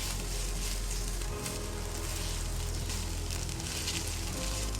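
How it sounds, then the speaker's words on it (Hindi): Garlic ginger paste frying with onions in a pan for mutton liver masala, a steady close sizzle with crackling spatter, continuous and fairly loud with no voice. "अब हम लहसुन अदरक को थोड़ा भूनेंगे।"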